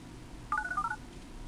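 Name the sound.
cell phone speed dialing voicemail, DTMF tones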